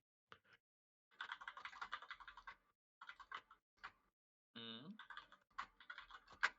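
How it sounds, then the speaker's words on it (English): A computer keyboard clatters in irregular bursts during an online tabletop game session, close and fairly quiet, with a voice briefly cutting in among the keystrokes. "I can hear Ben typing"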